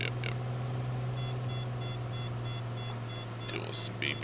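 Rapid, evenly spaced electronic warning beeps from a simulated aircraft cockpit in Microsoft Flight Simulator pulse steadily over a continuous low engine hum, with short bursts of speech at the start and end.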